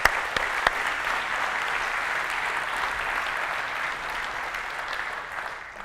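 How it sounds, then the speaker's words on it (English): Conference audience at UI5con 2023 breaking into sustained applause, a dense, even wash of many hands clapping that stays loud throughout and tapers slightly at the end. "Maybe we give them a round of applause."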